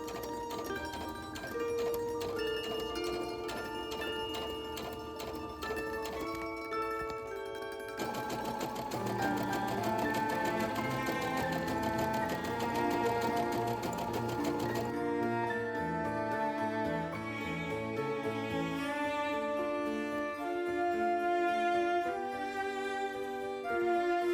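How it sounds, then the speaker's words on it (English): A sewing machine runs zigzag stitching for a satin-stitch edge along a decorative shirt panel. It hums steadily and rapidly for a long stretch with a few changes in speed and no voices. "went over it with some zigzag stitching for kind of like a satin stitch look to the edge"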